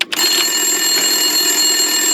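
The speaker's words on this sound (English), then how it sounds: "Winterson's phone was ringing." A telephone rings in the video game Max Payne 2, a loud, steady electronic tone sustained alone for about two seconds after a brief click.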